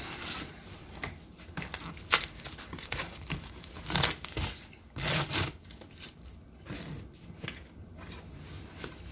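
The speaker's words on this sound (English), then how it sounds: "Trying to cut this open with one hand." Cardboard box holding custom headlights for a 2011 Crown Victoria being cut open one-handed, with close crinkling, tearing and scraping bursts in an uneven rhythm and no talk.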